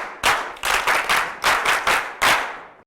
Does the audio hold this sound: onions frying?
no